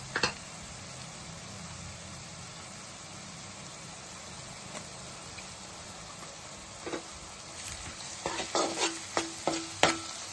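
Ginger garlic paste sizzles steadily in a pan with onions for a dhaba-style cauliflower curry, a soft frying hiss throughout, and near the end a spoon scrapes and taps against the pan several times.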